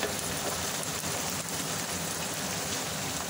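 Masala spices fry in a pan with tomato for a karela dish, a dense, even crackling sizzle, close and continuous, with no voices.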